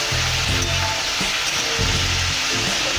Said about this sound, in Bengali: শুধু লবণ, হলুদ, তেল, লঙ্কায় আমি এই ব্রোকলি ভাজবো